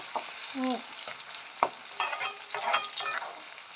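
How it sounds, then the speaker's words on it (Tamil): Onions stirred in a pan while frying for a Jaffna-style dried fish curry: a faint, steady sizzle with irregular scraping strokes of a spoon against the pan, close by and with no talk. "வெங்காயம் போட்டாச்சு. வெங்காயம் நல்லா வதங்கணும்."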